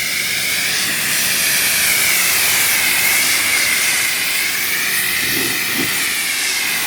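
A Ryobi 1.8 GPM pressure washer sprays a steady, loud, hissing jet, rinsing soap off a car, with the rush of water continuous and close throughout.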